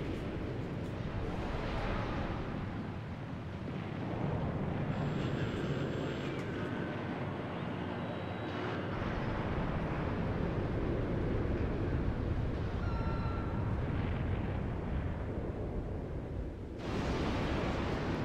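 A massive explosion in Final Fantasy VII fills the scene with a loud, sustained roar and rumble, rolling on for many seconds with a sharper burst near the end.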